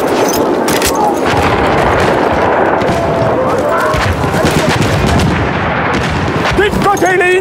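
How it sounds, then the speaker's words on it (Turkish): Dense gunfire and artillery crash continuously across a Battlefield 1 battlefield, loud and unbroken, with machine-gun bursts mixed in and shouted voices under the din. "Dikkat eyleyin, makinalı tüfek."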